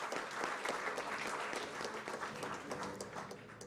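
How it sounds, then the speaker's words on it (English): An audience at a superyacht awards ceremony gives warm, steady applause as a winner leaves the stage, a moderately distant wash of many hands clapping, continuous with little variation. "Again, warm applause to Mike Gregory leaving the stage."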